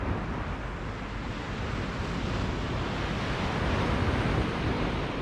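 Sea waves break steadily on the beach at Chapel Point at sunrise, a continuous loud wash of surf with wind noise and no talking.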